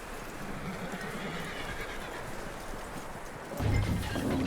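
Horse hooves and a whinny in the Red Dead Redemption 2 video game: a steady soft clopping and rustle, then a louder, close burst of horse noise near the end.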